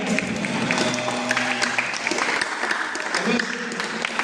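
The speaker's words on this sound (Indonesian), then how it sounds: "serta kita semua tepuk tangan" An audience at a Ramadan Islamic boarding school gathering claps in a loud, dense, continuous burst of applause with some voices mixed in.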